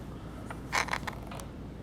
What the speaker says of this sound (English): Beginning here with the rolling mill,